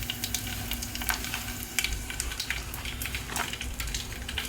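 Dried red chillies crackle and sizzle in hot oil for tomato, coriander and mint chutney, close and steady with small sharp pops scattered through.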